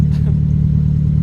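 A Nissan 240SX idling steadily, a deep, even low rumble with a faint mechanical tick, close and loud throughout.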